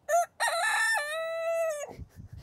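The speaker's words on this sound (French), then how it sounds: "Après ça, on a aussi les poules et coqs." A rooster crows nearby, a short call followed by a long drawn-out cock-a-doodle-doo that fades into faint rustling.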